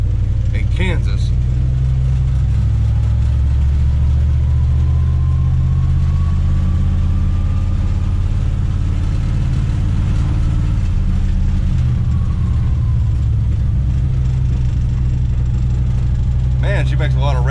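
A 1970 Plymouth Duster 340 race car sits idling with a steady low, rumbling drone and rattling, close and continuous throughout, with brief sharper noises near the start and end.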